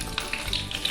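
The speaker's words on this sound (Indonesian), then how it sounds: "Setelah itu tahapan selanjutnya adalah kita menggoreng lombok ya teman-teman." Lombok chilies fry in hot oil for sambal pecel lele, giving a short, close, steady sizzle with small crackles and no voices.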